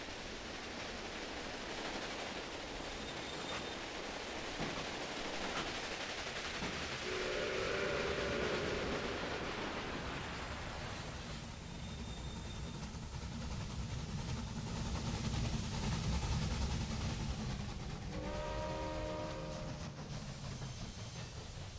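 A steam train in the Railway Empire video game rumbles along at a faint, distant level, with a steady rolling rail noise and short whistle blasts sounding around the middle and again near the end.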